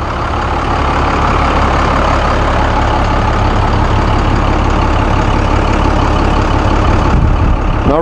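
The Cummins 5.9 liter turbo diesel in a 2000 Chance AH-28 trolley bus runs at a steady, loud, close idle, a deep rumbling drone that stays constant throughout with no talk.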